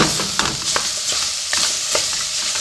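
Beef frying in a pot with its melting fat gives a steady, close sizzle, broken by several soft scraping stirs spaced about half a second apart.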